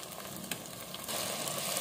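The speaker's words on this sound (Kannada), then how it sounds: "ಸ್ವಲ್ಪ ಫ್ರೈ ಆಗಲಿದೆ." Brinjal fries with masala in a pressure cooker, giving a soft steady sizzle and a brief clink of stirring, and the sizzle grows a little louder partway through.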